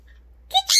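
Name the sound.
sun conure parrot calling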